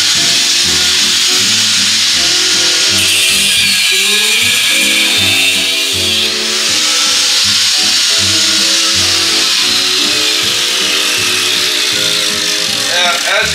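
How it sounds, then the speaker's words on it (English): A Makita 4-inch angle grinder with a cutting wheel cuts through metal on a 1961 GMC lowrider truck, a loud, continuous, high whine with shifting pitch as the wheel bites, while someone talks over it. "the Makita 4-inch grinder with a cutting wheel works very, very well"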